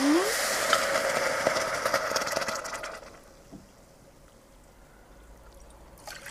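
Water is poured into a pot of millet for a vegan millet burger, a steady splashing stream for about three seconds that then tapers to a quiet trickle and stillness.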